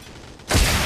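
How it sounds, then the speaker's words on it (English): Rockets fired in the video game Absolute Force Online: a sudden loud blast lands halfway through and swells into a heavy, sustained roar after a quieter stretch. "Shoot the fucking rockets again."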